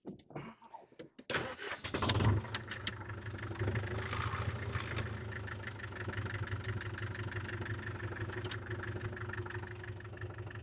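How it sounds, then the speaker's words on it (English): A tractor engine cranks and catches, then settles into a steady, rumbling idle that continues evenly. "I'm just going to start tractor and give her a little kick"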